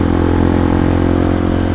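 A motorcycle engine hums steadily while riding on a city street at night, a loud close drone with an even, sustained tone and no pauses.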